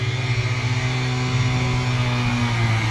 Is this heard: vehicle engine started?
yes